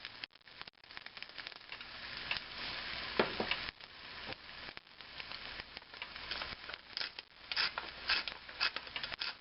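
An egg sizzles and crackles in a hot frying pan for a breakfast burger, a continuous bright frying hiss with irregular pops, close and steady without speech.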